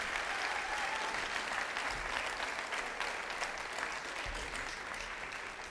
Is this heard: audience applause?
yes